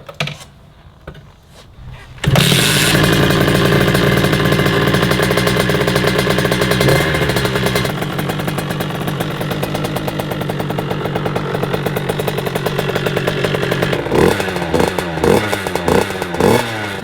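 A Motobécane MA 50 moped engine idles at a steady, loud drone. A brief quieter stretch comes first, then the engine runs continuously, with a slight wavering in its pitch near the end.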